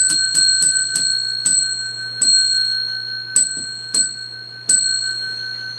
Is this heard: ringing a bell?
yes